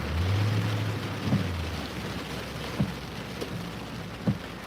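Heavy rain during a thunderstorm along the I-95 highway north of Boston makes a dense, continuous roar, with a low rumble at the start and a few sharp thumps scattered through it.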